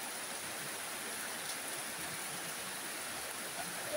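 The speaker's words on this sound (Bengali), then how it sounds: "বাংলাদেশে এখন চলতেছে মুষলধারা বৃষ্টি।" Heavy downpour in a hilly area, a dense, even roar of rain that fills the whole stretch without pause and stays fairly soft and distant.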